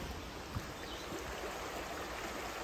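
A forest creek flows with a soft continuous rushing and trickling of water, faint and steady, with no voices.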